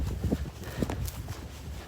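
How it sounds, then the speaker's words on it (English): A couple of horses walk in a paddock, with a few soft, muffled hoof thuds on the ground close by amid outdoor rustle and wind. "Just got to work my way through this paddock. There's a couple of horses."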